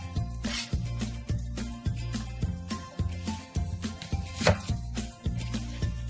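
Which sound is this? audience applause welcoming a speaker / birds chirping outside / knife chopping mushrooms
knife chopping mushrooms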